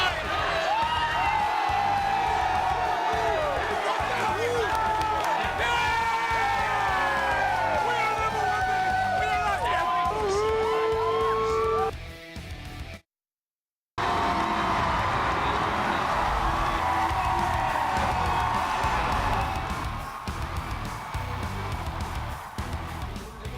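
Packed basketball arena crowd at John Paul Jones Arena in Charlottesville cheering the Cavaliers, a loud sustained roar with whoops and claps under broadcast commentary, a brief dropout near the middle, then the roar resumes.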